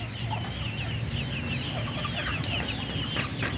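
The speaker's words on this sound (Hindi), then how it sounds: "एक ये मुर्गी भी बैठी हुई है अंडों पे, वाइट।" Chickens at a home poultry yard, including a white hen sitting on eggs, cluck and murmur in a steady, overlapping chatter, close by under a constant outdoor background with no talking.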